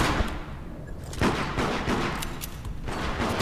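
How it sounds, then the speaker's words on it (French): Gunfire rattles in the video game Deceit, a dense, dull burst of shots and impacts under steady game ambience, moderately loud and continuous throughout. "elle m'a tiré dessus"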